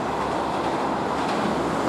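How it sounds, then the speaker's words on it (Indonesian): The Bogowonto passenger train rumbles past nearby with a steady, loud roar of wheels on rails and faint clatter throughout, without any voices. "Ternyata yang melintas adalah kereta api Bogowonto."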